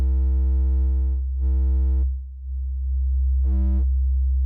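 Distorted reggaeton bass synth programmed in FL Studio 21, with three loud sustained notes and a brief gap between them, heard alone with deep low end and bright buzzing overtones.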